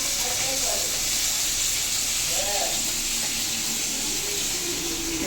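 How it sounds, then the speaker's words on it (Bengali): Crab frying in a pan alongside cooking meat in Puri, a constant close hiss and sizzle of hot oil, with a voice talking faintly over it. "আর পাশে চলছে কাঁকড়া ভাজা"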